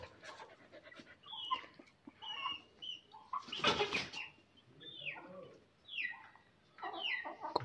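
Several chickens cluck and squawk in short bursts close by, with a busy flurry of louder calls midway and a dog panting faintly in the background.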